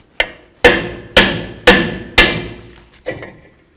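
Six sharp hammer blows ring out, roughly evenly spaced, each bonk striking a wheel cylinder to knock it loose from the backing plate of a 1992-99 GMC K1500 pickup; close, loud metallic strikes with short ringing decays and no talk.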